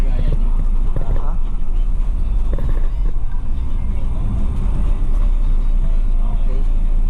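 A MAN automatic city bus drives along a road in Europe, its engine and road rumble steady and loud throughout, with people talking over it.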